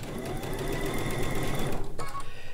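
A travel sewing machine stitching, a close, steady motorized whir that briefly stops near the end and then resumes in quick, pulsing strokes.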